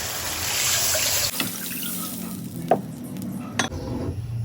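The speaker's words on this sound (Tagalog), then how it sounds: "Lagyan na natin ng tubig." Water goes into a pan of fried chicken for chicken tinola, with a hissing sizzle and splashing that settle into a bubbling simmer, and a few utensil clinks along the way.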